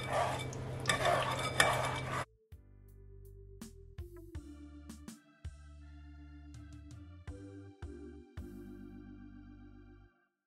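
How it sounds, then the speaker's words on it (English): A homemade cornstarch mixture is stirred for about two seconds with a brief gritty scraping swirl, followed by sparse clinks and tonal sounds. "And I just mix it in so it go right through."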